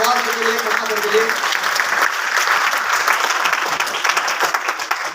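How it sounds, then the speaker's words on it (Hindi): An audience bursts into loud, sustained applause, dense clapping holding steady throughout, with a voice briefly audible over it at the start. "एक बार जोरदार तालियां जोरदार के लिए।"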